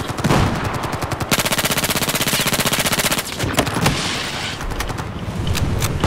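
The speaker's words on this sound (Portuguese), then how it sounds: "dei-lhe bué de tiros" Rapid bursts of automatic gunfire in Battlefield 4, long sustained volleys with short pauses, loud and close, no talking.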